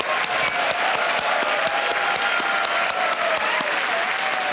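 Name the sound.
studio audience applause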